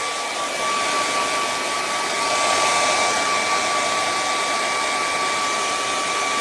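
A hair dryer blows steadily to dry wet paint on a painting, a constant close whooshing hum with a faint whine, running alone for several seconds without speech.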